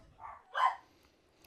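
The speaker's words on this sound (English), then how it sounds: "Sorry about the dogs in the background." Dogs bark in the background indoors, two separate short barks a moment apart, the second louder, with a faint third yip at the end.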